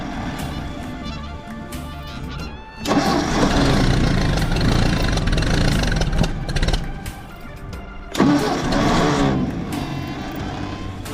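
A 1966 Ford F250 camper special with a stuck throttle rumbles at a low idle. It then surges into a loud, rough run about three seconds in, dips back, and flares up again near the eight-second mark.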